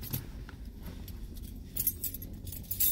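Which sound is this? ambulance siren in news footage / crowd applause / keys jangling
keys jangling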